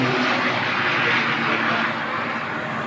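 Pitts aerobatic biplane flying at the Prouvy air meeting, a steady broadband engine roar held at constant loudness throughout, moderately distant and without pauses.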